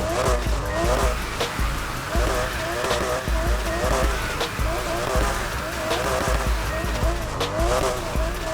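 A Porsche RSR in Need For Speed Heat drifts with a roaring engine and repeated, loud tire squeals, while a voice talks over the racing sounds.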